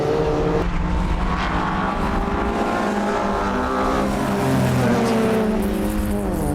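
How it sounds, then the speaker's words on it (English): Alfa Romeo 75 race car lapping a circuit during an Alfa Romeo Championship round at Anglesey, its engine roaring loudly and continuously with rising and falling revs and gear changes, and other cars blending in. "Back with car number 4, Keith Waite in the 75"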